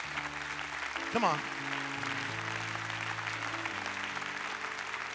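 A church congregation claps along during a sermon, steady rhythmic clapping mixed with organ-like sustained music and a voice calling out briefly.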